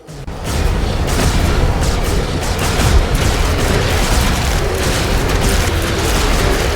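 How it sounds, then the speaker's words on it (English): A building is destroyed in The Riftbreaker video game. A sudden loud blast opens into a dense, sustained roar of rumbling explosions and debris that continues at full strength to the end. "One of our buildings has been destroyed."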